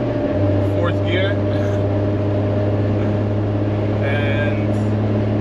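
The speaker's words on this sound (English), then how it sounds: "Now I just got on the highway, so let's bring her up to speed." A Jeep TJ engine hums steadily as it accelerates toward highway speed in fourth gear, heard from inside the cabin as a low, constant drone, with a person speaking over it.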